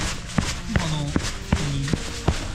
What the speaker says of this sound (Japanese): そして気になる足音ですけど